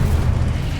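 A deep, rumbling burst of fire from an Incendio spell cast in the Hogwarts Legacy video game, loud and dense with low-end roar for a moment.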